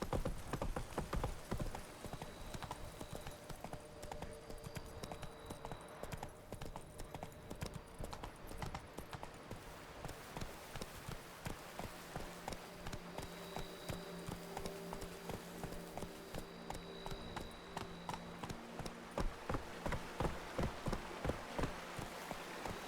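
Horse hooves clip-clopping in a steady, rapid rhythm that carries through the whole stretch, close and fairly loud, with a faint whinny and a few spoken commands mixed in.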